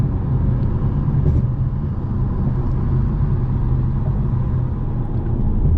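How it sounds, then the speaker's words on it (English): A 2024 G82 BMW M4 Competition xDrive cruises in comfort mode with its exhaust valves closed and burbles off, giving a steady, low, muted engine rumble heard from inside the car without any pops. "right now the valves are fully closed, the burbles are off, car is in comfort mode, and it sounds stock"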